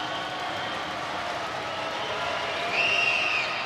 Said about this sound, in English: That one off the mark as the Mizzou Arena crowd got loud.